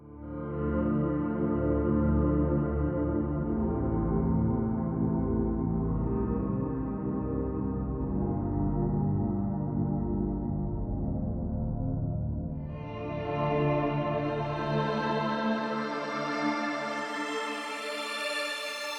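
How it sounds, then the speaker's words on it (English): A sustained, layered electric guitar drone through effects pedals, played on a Les Paul and a Telecaster, with thick harmonic texture, shifting partway through to a brighter, fuller tone, played steadily without any voices. "It's the same effects pedal recording, except it's my Telecaster guitar instead of my Les Paul."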